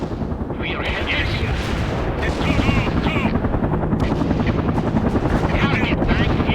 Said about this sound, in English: MI-24 on the British way